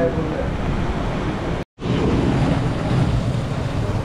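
Floodwater rushes steadily through a flooded bus parking area in Kasol during landslides and floods, a loud continuous roar with a brief cut near the middle.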